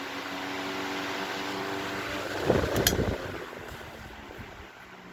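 A steady whirring hum of an antique GE 16-inch electric table fan that slowly winds down from high speed, with a brief clatter midway and the tone fading toward the end.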